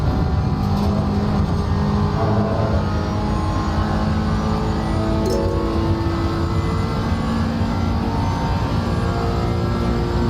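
Race car engine in Assetto Corsa Competizione at Spa, a steady loud drone that rises in pitch as the throttle goes back on, with no talking.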